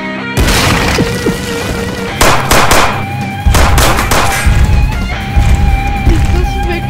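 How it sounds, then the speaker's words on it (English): Bullets ricocheting in the Henry Stickmin video game, a rapid series of sharp metallic pings and cracks, loud and close, layered over a steady tonal background. "It's just ricocheting."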